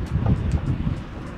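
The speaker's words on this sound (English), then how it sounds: "It's quite windy." Gusty wind buffets the microphone in Cape Town, South Africa, producing a low rumbling roar that rises and falls without any talk.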